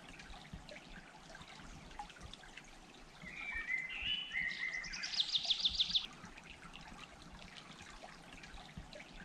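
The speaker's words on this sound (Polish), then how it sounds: "Piękny strumyk leśny wypływa sobie w tym oto miejscu." A small forest stream trickles softly at its spring source in a wooded valley, a faint steady flow, while birds chirp and one sings a short run of repeated notes midway.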